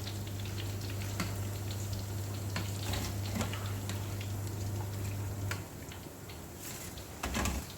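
Prawns frying in oil in a pan make a steady, dense sizzle that continues throughout, with occasional utensil clicks and taps and no talking.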